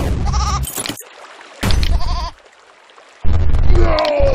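Goat bleating in the video game There is No Game, three loud, close, quavering calls separated by short silences, the last one longer and sliding in pitch.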